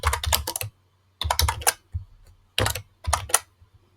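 Bursts of quick, close keystrokes on a computer keyboard, four clusters of crisp clicking separated by short silent pauses, with no talking.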